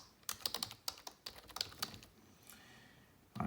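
Someone types a command on a computer keyboard, a quick run of sharp, close key clicks in irregular bursts, ending with a louder key press.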